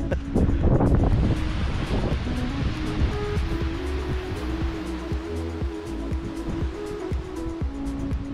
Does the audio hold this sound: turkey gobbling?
no